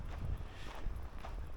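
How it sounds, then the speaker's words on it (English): Wind buffets an outdoor microphone in Tallinn, Estonia, giving a steady low rumble with gusty swells and no voices. "It's also a little windy here"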